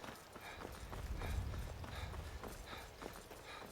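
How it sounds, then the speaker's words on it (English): Horse hooves clip-clop in Skyrim, a steady rhythmic run of muffled thuds, close and moderately loud over a low rumble. "Is that a horse there?"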